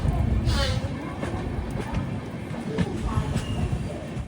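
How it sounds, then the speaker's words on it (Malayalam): Duranto Express train slowing to a halt at Balli station, a continuous low rumble and rattle of carriages heard from on board, with faint voices talking in the background. "ട്രെയിൻ ഇപ്പോൾ ബല്ലി എന്നൊരു സ്റ്റേഷനിൽ നിർത്തിയേ"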